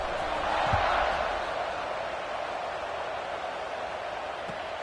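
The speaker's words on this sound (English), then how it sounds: "this crowd is buzzing after that last score" A football stadium crowd at a USC game buzzes after a score, a broad, loud wash of massed voices that swells briefly at the start and then holds steady, with a couple of faint thumps.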